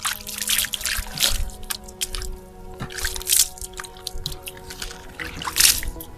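Water poured from above onto potted plant soil to flush out white salt buildup, giving soft trickling, dripping and squishy gurgles at close range, fairly quiet with no talk.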